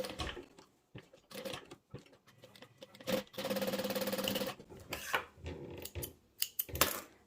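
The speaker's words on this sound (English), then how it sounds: "what I normally do is stitch 2 and then do a turn, stitch 2 and turn, and then just keep going around" A sewing machine stitches around a passport cover in short bursts of a couple of stitches with pauses for turning, then one longer steady run in the middle, followed by more brief stop-start stitching, close and fairly quiet.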